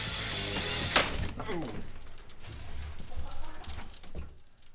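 A sharp crack of breaking tempered glass, followed by scattered crinkly, tinkling crackles that continue and fade.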